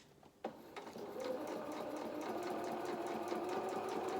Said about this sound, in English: we just make sure that that next inch in front of the presser foot is just clear before we start to stitch